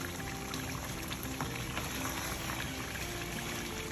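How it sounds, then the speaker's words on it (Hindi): Bottle gourd and meat boil in their own released water in a cooking pot, a steady close bubbling and sizzling hiss that runs evenly without pause. "जो उन्होंने पानी छोड़ा है उसमें वो पूरी बॉयल भी हो रहा है"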